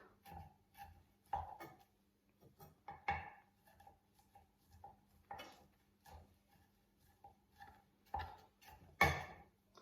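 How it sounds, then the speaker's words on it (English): A knife chops food on a chopping board in a home kitchen while a salmon dish with lemon and pomegranate couscous is prepared, giving irregular light taps and clicks, some bunched in quick runs, with no talking. "Squidge it all up again and just chop, chop, chop, chop, chop, chop,"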